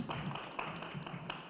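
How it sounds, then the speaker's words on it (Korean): Audience applause welcomes guests onto the stage at a tvN drama press conference, a steady, dense wash of clapping filling the room for the whole moment with a few sharper claps poking through. "박수로 환영해 주시기 바랍니다"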